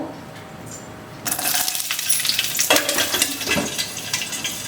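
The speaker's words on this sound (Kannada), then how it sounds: "ಇವಾಗ ಇದನ್ನ ಎಣ್ಣೆಲಿ ಚೆನ್ನಾಗಿ ಫ್ರೈ ಮಾಡ್ಕೋಬೇಕು ನಾವು" Chillies hit hot oil in a pan with a sudden burst of loud crackling sizzle after a quiet start, then keep spattering and popping up close.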